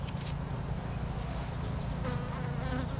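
Honey bees buzzing around a hive that has lost its queen, a dense, continuous drone of many wings close by, with individual bees swelling louder as they pass near.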